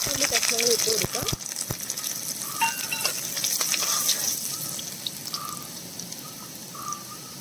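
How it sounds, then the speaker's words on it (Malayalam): Mustard seeds are dropped into hot oil for mango pickle and splutter and crackle in a steady, close sizzle, with a few sharper pops early on and a voice talking over it. "എണ്ണ ചൂടായി വന്നിട്ടുണ്ട്. നമുക്ക് അതിലേക്ക് കടുക് ഇട്ട് കൊടുക്കാം."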